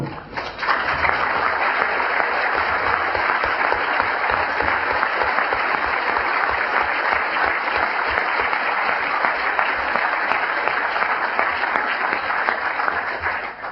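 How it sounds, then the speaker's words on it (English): A large audience at a 2007 debate on whether Jesus rose bodily from the dead bursts into sustained, dense applause, loud and continuous for over ten seconds with no voices over it. "Thank you, but please reserve your applause to the end."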